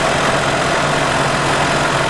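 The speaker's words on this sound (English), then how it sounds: "Behold the 1984 Ford 302." A 1984 Ford 302 V8 idles in a 1984 Lincoln Town Car, giving a steady, close, unbroken low rumble and drone with no talk over it.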